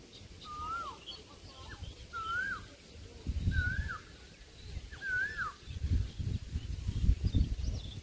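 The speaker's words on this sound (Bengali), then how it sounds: "আর ওইদিকে গাছে কোকিল ডাকতেছে" A koel calls from a tree in a village garden, a series of short rising whistled notes repeating about once a second, moderately near, over low rumbling background noise.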